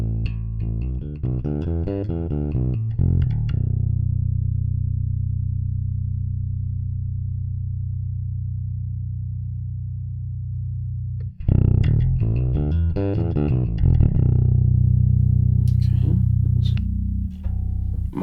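A bass guitar is played through the STL Tonality Will Putney Vintage Push Bass amp sim, giving distorted, gritty tone. A rhythmic riff gives way to one long sustained note that rings out and decays, then more chugging, driven playing follows.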